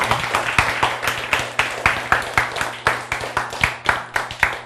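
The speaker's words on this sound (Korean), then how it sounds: "박수." A lecture audience claps in a steady, rhythmic beat, roughly four claps a second, sharp and fairly close, with a faint low hum underneath and no talking over it.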